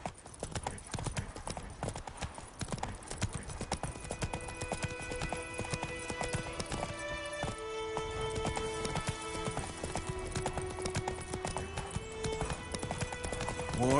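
The horse Roach galloping in The Witcher 3, rapid rhythmic hoofbeats pounding close and loud throughout, with music tones rising underneath and brief speech over the ride.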